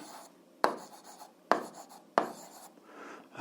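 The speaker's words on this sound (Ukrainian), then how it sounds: "Записуємо тоді словами, записуємо отже." Pen writing on paper while working an algebra exercise, with three sharp stroke onsets and scratchy writing between them, quiet and close with no talking.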